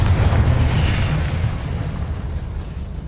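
Confringo explosive spell cast in the video game Hogwarts Legacy: a sustained low rumbling blast with crackling burst texture, loud and close at first, then slowly fading over a few seconds.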